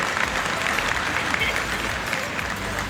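Loud, dense applause from a large audience at a ceremony honouring 5,000 teachers on Dr. APJ Abdul Kalam's birthday, steady throughout with faint voices mixed into the crowd.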